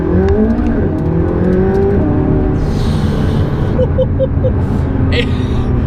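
A McLaren 570S sports car engine roars and revs under a continuous loud rumble, with rising engine tones and someone speaking over it.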